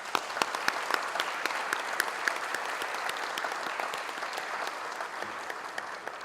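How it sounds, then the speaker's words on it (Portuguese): Warm applause fills a solemn session hall of Brazil's state assembly honouring the public prosecution service, steady sustained clapping from a crowd of many hands throughout, with no talk over it. "peço a todos uma calorosa salva de palmas"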